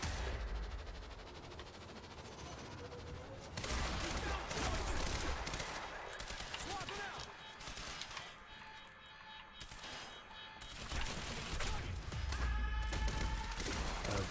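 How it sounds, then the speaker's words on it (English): Sustained volleys of gunfire from the Quantum Break video game, loud and continuous with short gaps, mixed with crashes and impacts. "Just shooting that man in the butt repeatedly."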